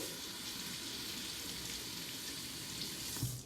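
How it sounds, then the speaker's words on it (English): A butternut squash is rinsed under a running kitchen tap, a steady, soft stream of splashing water that holds even for a few seconds with no talk. "I already washed it, but I'm gonna give it a quick rinse again"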